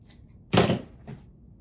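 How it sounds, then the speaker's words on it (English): Regular scissors cutting through material for a bunny Easter wreath craft: one crisp, close snip followed by a fainter second snip. "We're using regular scissors for that."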